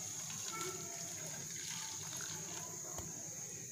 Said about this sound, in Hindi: इसके अंदर हम डाल देंगे ये एक गिलास पानी